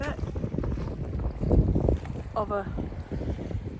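Gusty wind buffeting the microphone on a rocky beach at the coast, rumbling in uneven surges beneath a voice.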